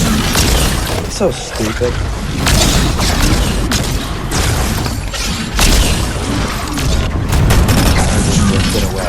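Automatic gunfire and booming explosions fill a chaotic video game battle, a dense loud barrage of shots and blasts running throughout while a player talks over it.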